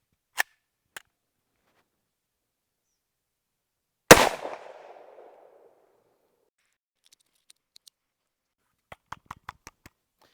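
A single loud gunshot from a Tommybuilt T7 MP7 clone rings out, followed by a fading echo, with faint clicks of handling before and after.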